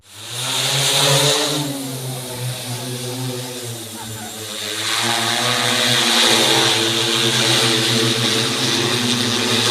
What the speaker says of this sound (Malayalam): പ്രസിഡന്റ് ഗീതാമണികണ്ഠൻ ഡ്രോൺ പറത്തൽ ഉദ്ഘാടനം ചെയ്തു